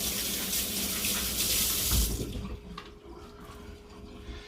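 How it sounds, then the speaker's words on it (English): Tap water runs into a sink for hand washing, a close, even splashing rush that cuts off after about two seconds and leaves faint drips and handling sounds. "Now I'm just going to wash my hands for a second."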